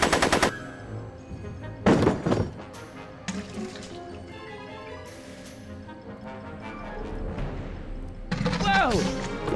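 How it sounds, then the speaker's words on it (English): Gunfire in a Back to the Future video game: sharp bursts of shots come in clusters, a loud volley at the start and more around the middle and end, mixed with game sounds and voices talking. "Are you shooting at me?"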